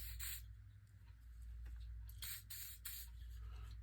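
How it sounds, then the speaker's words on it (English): Gun lube sprayed onto rifle parts of a Contender carbine, a few short faint hissing spray bursts over a low steady background hum. "Put some of my favorite lube on here."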